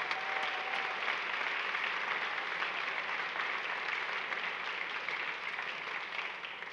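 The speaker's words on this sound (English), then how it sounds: "One more round of applause." An audience at a Memorial High School concert applauds steadily after a Tri-M chapter performance, the dense clapping continuing at an even level throughout.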